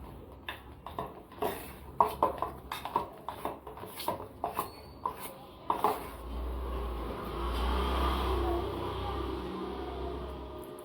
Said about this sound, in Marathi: पूर्ण असं लोण्यासारखं मऊ होईपर्यंत फेसून घ्यायचं